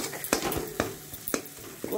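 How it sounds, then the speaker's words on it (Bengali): Spoon stirring pointed gourd and paneer with turmeric as they fry in a pan, a soft sizzle under regular scraping strokes about every half second. "দিয়ে আমি এবার আবার একটু কষিয়ে নেব।"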